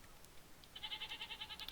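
A Minecraft goat gives a short, nasal bleat starting partway through, a wavering stuttered cry that holds for about a second over a quiet background.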